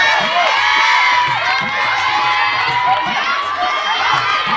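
Cheering and whooping from a crowd of students at a college comedy show at an institute, dense and continuous, with shouts rising over the noise throughout.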